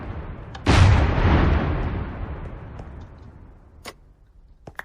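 A single cannon salute boom fires in the Minecraft video game, one loud blast that rolls away into a long fading tail, followed by a few faint clicks.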